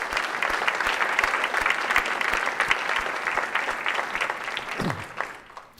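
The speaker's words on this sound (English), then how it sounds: "Help me applaud their efforts as well." Audience applause at a college State of the College address, a full, steady roar of many hands clapping that holds for several seconds before tapering off at the end.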